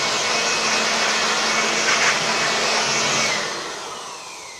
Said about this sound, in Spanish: Lo ponemos en la máxima velocidad y vamos a ver cómo sopla esto todo el aserrín y la viruta.